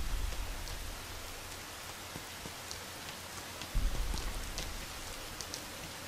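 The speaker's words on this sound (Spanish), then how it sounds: "Solo quedaba la lluvia que caía todavía con más fuerza, cayendo a borbotones sobre él." Heavy rain pours steadily in the video game Rain, a dense, even hiss with scattered drop patters and a brief louder gust of downpour near the end, no voices.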